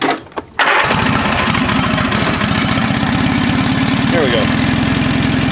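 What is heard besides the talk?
small tractor engine starting and idling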